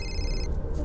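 A mobile phone rings with a bright electronic tone that cuts off after about half a second, heard up close over a low background hum and rumble.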